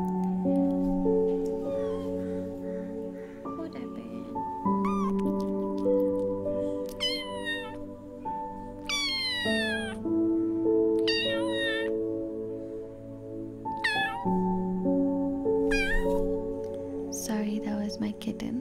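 A kitten meows repeatedly, with short high cries scattered over soft background music, fairly close and clear among gentle sustained tones.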